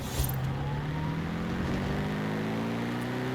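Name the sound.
Jaguar SVR supercharged engine in video game Forza Horizon 5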